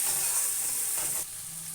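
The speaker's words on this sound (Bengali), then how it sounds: "আর একটু 2 মিনিট মতো ভেজে নেবো।" Spice masala with chopped tomatoes sizzling in a hot pan, a steady close hiss of frying that softens slightly toward the end, with no talk.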